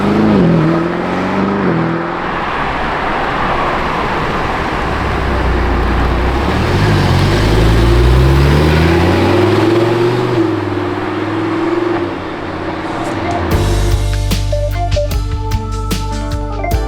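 A camouflaged Lamborghini Revuelto V12 drives on a public road, its engine revving and rising in pitch loudly and continuously for most of the stretch before giving way to a brief mix of other tones near the end.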